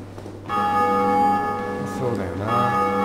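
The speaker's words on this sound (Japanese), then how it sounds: "これで鐘を鳴らすんじゃなかったっけ？" A bell rings out in Dark Souls Remastered, a sustained metallic tone with long ringing overtones that swells and wavers over a few seconds, with a voice speaking over it.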